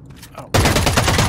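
A turret in Eve Vanguard opens up abruptly after a brief quiet moment, then keeps firing a dense, loud, rapid burst of shots.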